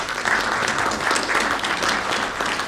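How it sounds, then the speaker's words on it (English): A crowd gives the panelists at a digital governance and citizen services event a full round of applause, a loud, dense, continuous patter of many hands clapping that holds steady from start to finish. "So a big round of applause to all the panelists."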